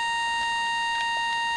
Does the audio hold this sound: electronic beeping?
yes